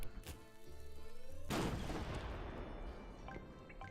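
A cannon fires in the Worms Crazy Golf video game: a sudden loud boom cuts through the game's music and decays into a rumbling blast, followed by faint scattered clinks.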